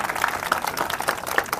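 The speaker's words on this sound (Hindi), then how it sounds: "इन बच्चों के लिए एक बार जोरदार क्लैप करें।" Audience applause for children at a school seminar, a steady patter of clapping from a moderately sized crowd, close and continuous through the short moment.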